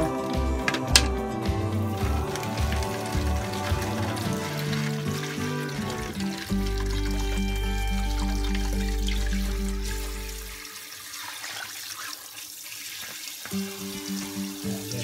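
Tap water runs into a kitchen sink while fish is rinsed. Clattering comes first, then a steady gushing flow for several seconds that stops, leaving quieter handling sounds.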